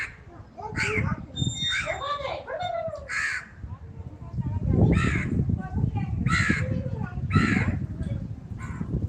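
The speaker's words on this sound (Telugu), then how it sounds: "కాకి ఎందుకు ఇలా అరుస్తుంది?" A crow caws repeatedly, harsh and fairly close, over a steady murmur of people talking in the background.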